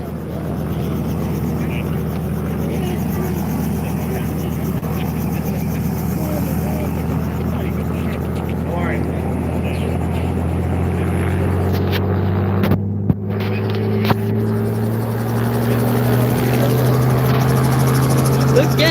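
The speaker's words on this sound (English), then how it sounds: "There's the mystery helicopter." A helicopter flies over the Ocean City, NJ airshow near Steel Pier, a steady throbbing rotor hum with a rising engine whine, continuous and fairly close across the whole stretch.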